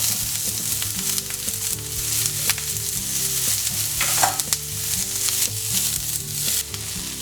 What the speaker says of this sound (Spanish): Ahora doramos la cebolla.